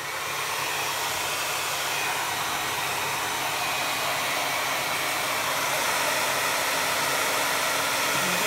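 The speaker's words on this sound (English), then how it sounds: "So I'm gonna blow dry it real quick." A hair dryer blows steadily and loudly for the whole stretch, a constant broad rushing hiss with a faint motor hum beneath, used to dry mixed-media paint.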